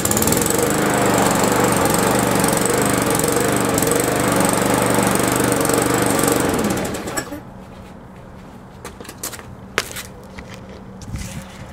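Small lawn equipment engine on a cold October day, loud buzzing, revving drone for about seven seconds that cuts off abruptly, followed by quiet with a few clicks and knocks.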